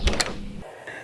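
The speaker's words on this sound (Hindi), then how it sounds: "दरवाजे का आवाज सुन के मैंने देखा एक बूढ़ा आदमी दरवाजा खोल के अंदर आ रहा है।" A door creaks open in a small, quiet hotel restaurant, a short scraping, grinding sweep lasting about half a second before cutting to near silence with a faint high tone.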